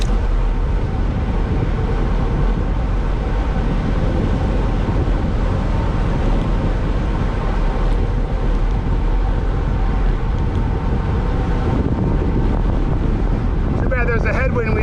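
Headwind buffets the microphone during a fast bike ride at around 35 miles an hour in Acadia National Park, Maine. The wind noise roars loud, close and continuous throughout.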